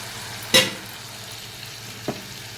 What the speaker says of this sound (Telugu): ఇది కర్రీ అండి ఇవన్నీ ఏగుతున్నాయి బాగా మగ్గిపోవాలి